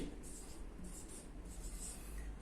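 Chalk or pen scratching out numbers on a board during a lecture, soft repeated strokes in short bursts over a low room hum.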